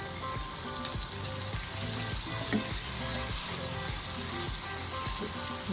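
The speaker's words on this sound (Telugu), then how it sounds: "బాగా ఫ్రై అవ్వాలి" Food fries in a pan for a quick home curry, giving a steady, close sizzle with occasional soft stirring clinks throughout.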